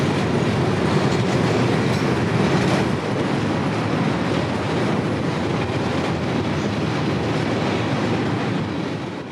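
A CSX freight train hauling empty cars rolls past on the Kingsland Subdivision near Jacksonville's Trout River, a loud, continuous rumble with steady wheel clatter that holds for the full stretch before easing slightly at the end.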